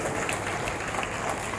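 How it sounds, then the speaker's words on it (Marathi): Audience applause at a gathering, a steady wash of many people clapping at moderate distance, with no talk over it. "आपण सगळेजण त्यांचं अभिनंदन म्हणून एकदा टाळ्या वाजवूया."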